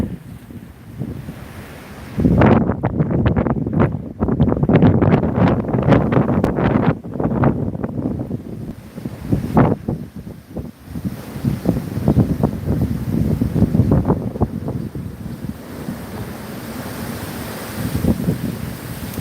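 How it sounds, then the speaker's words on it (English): Strong wind gusts sweep through downtown Las Vegas, roaring and buffeting the microphone in loud, surging bursts that rise and fall over about twenty seconds with no talk. "That was a pretty decent wind gust right there."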